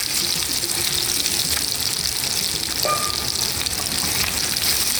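Potatoes and chilies fry in hot oil, producing a loud, steady sizzle that fills the kitchen continuously, with no voices present.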